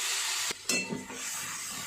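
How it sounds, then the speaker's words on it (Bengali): Panch phoron and bay leaves sizzle in hot oil with a steady, bright hiss, briefly broken by a short gap and a splutter of crackles before the sizzle settles back in. "তেল গরম হয়ে গেছে তেল গরমের মধ্যে দিয়ে দিলাম পাঁচফোড়ন তেজপাতা"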